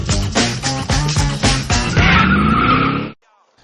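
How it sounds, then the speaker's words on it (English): A car roars through a burnout, engine revving in rapid pulses before the tires break into a long, loud screeching skid that cuts off abruptly. "First up though is our internet burnout."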